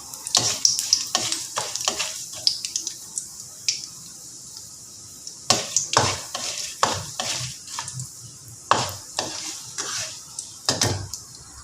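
Urad dal and curry leaves frying in a pan, with scattered bursts of stirring and metallic scraping over a faint sizzle, heard up close and alone for the whole stretch while long beans are being stir-fried.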